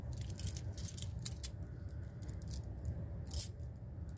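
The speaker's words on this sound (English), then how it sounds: "Get my keys out. Find my Simplex key, wherever it is on my key ring." Metal keys jangle and clink on a key ring in repeated bursts, close and fairly quiet, while someone searches for a Simplex fire alarm key beside a vintage Simplex 2001 fire alarm system.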